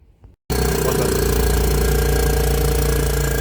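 A Komatsu forklift engine with a loss of power under load bursts into loud, steady high-RPM running after a brief quiet moment, a close, constant mechanical roar with a pulsing drone through to the end.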